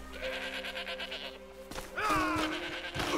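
A goat in Red Dead Redemption 2 gives a couple of nasal bleats, fairly close and separated by a short gap, over a low background hum.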